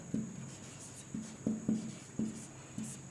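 Chalk or marker taps and scratches on a board during a geometry lesson, a series of short close strokes spaced a fraction of a second apart over a quiet room hum, with no talking.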